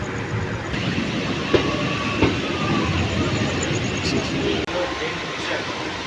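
A train runs into Nalhati Junction, its continuous rolling rumble and wheel clatter filling the scene, with a few faint squeals and clicks over the steady noise.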